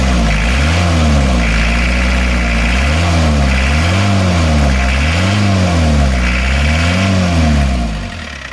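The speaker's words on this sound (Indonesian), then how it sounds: "Suara mesinnya" Isuzu Panther 2.3-litre diesel engine running after a repair with a new cylinder liner, a steady, loud idle with a low throb that rises and falls in repeated gentle revs, close up and free of talk.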